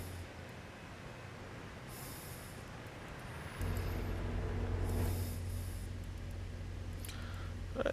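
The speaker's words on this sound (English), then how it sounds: "Oh look, MBTA commuter train." MBTA commuter train in Train Sim World 5 passing by, a low rumbling drone that swells suddenly partway through, with hissing bursts and a steady hum, no talking.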